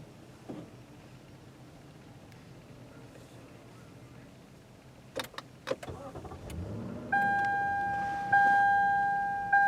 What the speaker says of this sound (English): The startup is smooth and refined, signature LS traits.